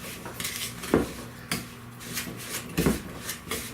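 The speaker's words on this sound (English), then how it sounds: "we want to cream the sugar until it's incorporated into the butter" Butter and sugar being creamed in a mixing bowl give a quiet, close scraping and knocking, with a few sharper clatters of the utensil against the bowl.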